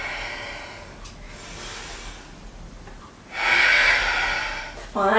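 A strong audible exhale during a yoga exercise, a close breathy rush lasting over a second, followed by a voice speaking.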